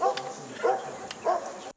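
A mission-ready search and rescue dog in Taiwan gives three separate short barks or yelps, evenly spaced and moderately close, with no talking.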